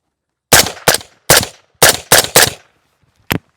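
Suppressed 7.62 rifle shots through a Huxwrx suppressor: six loud, close, muffled reports with short decays, spaced unevenly, then a seventh short knock after a pause.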